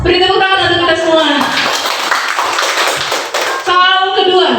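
A room of schoolchildren and adults at a classroom learning event bursts into a few seconds of lively clapping between stretches of talking.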